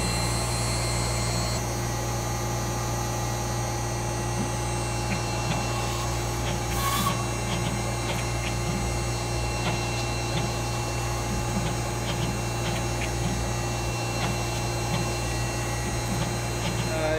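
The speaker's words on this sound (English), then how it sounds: "ball nose bit that moves over about 1/1000 of an inch each pass. And it carves kind of from the side and the bottom" A CNC router fitted with a 1/8 inch ball nose bit carves a wooden panel in an artist's studio, giving a steady mechanical drone with faint scraping and rubbing texture throughout, no voices over it.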